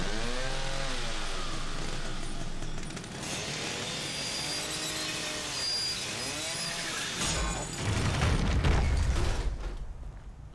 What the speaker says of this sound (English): Use the chainsaw.